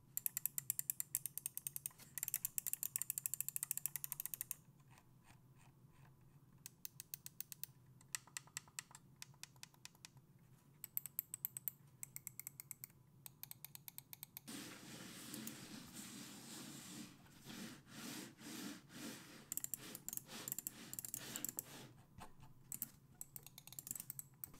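Xiaomi Mi Wireless Gaming Mouse buttons and scroll wheel being worked, quick bursts of small crisp clicks and ratcheting ticks in close, quiet succession with short pauses between.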